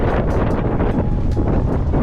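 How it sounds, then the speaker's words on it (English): Strong wind buffets the microphone along the River Thames path, a loud continuous roar with gusty surges and no speech. "it's quite windy"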